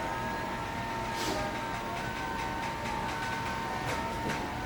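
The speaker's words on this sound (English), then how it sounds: "So you'll hear the motors go" A Permobil F5 power chair raises itself to standing as its several motors run together in a steady mechanical whine and hum, with faint rattling clicks scattered over a continuous low rumble.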